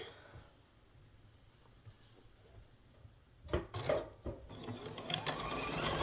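Sewing machine stitching quilt block pieces, starting after a quiet stretch with a few short bursts and then a steadier, louder mechanical whir toward the end, close by.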